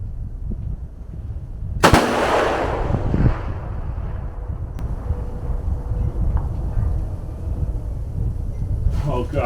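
A single long-range rifle shot fired at a 1,000-yard target in cold sub-zero conditions, a sharp loud crack followed by a rolling outdoor echo and steady wind noise.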